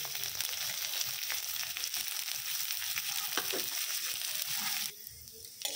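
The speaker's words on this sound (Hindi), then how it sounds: "जो ये स्लाइस्ड अनियन है इसे फ्राई कर लूँगी" Sliced onions frying in a spoonful of oil in a kadai, a dense close crackling sizzle with occasional stirring scrapes that suddenly drops to a quieter hiss near the end.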